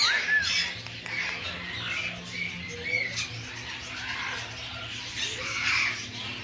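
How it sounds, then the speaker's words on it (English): Many birds squawk and chirp at a bird sanctuary in Menifee, California, a busy overlapping chorus of shrill calls and whistles over a steady background murmur, fairly close and continuous. "Look at all the birds."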